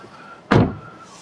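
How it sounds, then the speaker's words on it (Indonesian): A single solid thud of an SUV door shutting, close and fairly loud, with a brief low rumble after, over a quiet steady hum. "Kalian dengar tuh tutup pintunya ya. Tutup pintunya sangat solid dan padat banget."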